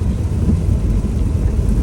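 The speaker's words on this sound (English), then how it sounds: "I'm trying to speak a little louder so that you can hear me over the rain and the windshield wipers." Heavy rain drumming on a car while the windshield wipers run, a loud, dense low rumble filling the cabin with no talking.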